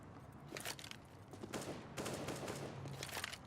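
Gunfire in a Counter-Strike match on the Cobblestone map, including MAG-7 shotgun blasts, comes as repeated sharp bursts and rapid shots layered in dense, busy game noise, with no talk.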